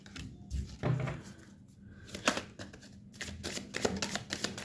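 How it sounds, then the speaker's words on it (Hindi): Tarot cards are shuffled by hand in a quiet room, giving soft riffling bursts and papery flicks in uneven clusters, faint and close. "जब मैं कार्ड शफल कर रही हूँ"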